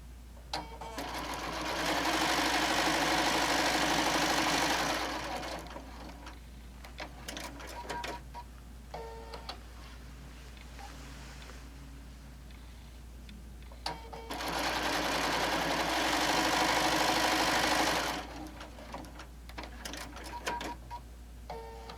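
A sewing machine stitches a row on the bottom side of a quilted oven mitt or potholder made from a fabric panel, running loud and steady in two bursts of a few seconds each, with quieter handling and shuffling between.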